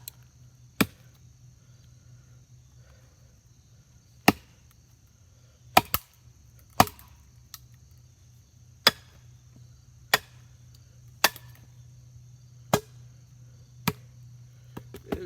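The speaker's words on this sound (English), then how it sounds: "I could hear like the splitting and cracking sound. This is definitely hard batoning." A knife is driven through wood by batoning, giving about a dozen sharp, isolated cracks and knocks spaced a second or more apart over a low steady hum, with no voices.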